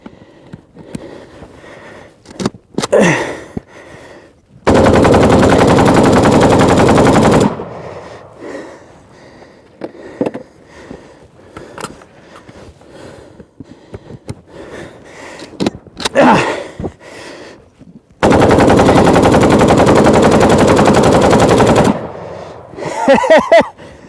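AK-47 rifle firing on full automatic, two long sustained bursts of roughly three seconds each, loud and close, separated by quieter stretches of scattered small sounds.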